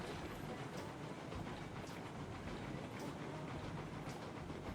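A six-car train in the video game Railroads Online rolls along the rails with a continuous rumble and faint rhythmic clicks of wheels over track joints, steady and fairly quiet, with no talking.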